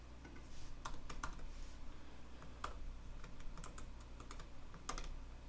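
Quick typing on a computer keyboard while building a Ruby on Rails web app, sharp scattered key clicks in uneven bursts over a steady low hum, close and fairly loud with no voices.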